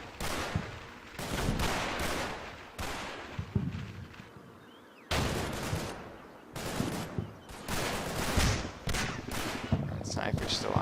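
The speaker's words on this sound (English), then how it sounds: "Quite the extended shootout." Gunfire in the WWII video game Combat Mission: Battle for Normandy, in loud, sharp bursts and volleys separated by short lulls, with a sustained heavy barrage after a brief quiet gap, as in an extended shootout.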